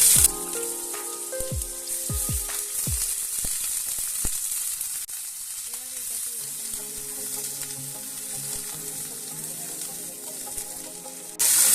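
Sliced ivy gourd tipped into a pan of hot oil with black cumin, giving loud bursts of spitting at first, then a steady busy sizzle with crackles that keeps going throughout, with no voices.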